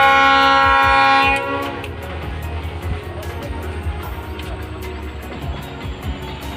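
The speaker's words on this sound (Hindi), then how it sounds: "ट्रेन आ रहा है गाइस।" A train passes close by at a blocked crossing near Baramura Eco Park, opening with a loud horn blast and then settling into a steady rumble and rhythmic clatter of wagons.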